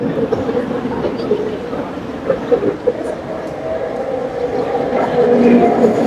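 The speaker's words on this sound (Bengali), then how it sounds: "এটা ছিল মাটির নিচ দিয়ে ট্রেন, এটা হচ্ছে মাটির উপর দিয়ে।" Underground metro train at a station in Malaysia, a steady rumbling roar of rail noise with clatter throughout, growing slightly louder toward the end, close and continuous with no talk.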